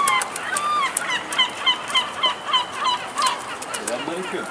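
Gulls call repeatedly in a busy, overlapping chorus of high, laughing cries, fairly close and continuous throughout.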